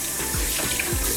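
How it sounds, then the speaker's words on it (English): A makeup beauty blender sponge rinsed under a running tap, water splashing steadily into a sink with a couple of brief squelchy gurgles as the sponge is squeezed. "and then I run it under the water"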